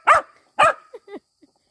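A dog in a yard barks at a garden hose and sprinkler: two loud, sharp barks close by, then a few small whiny yips trailing off into quiet.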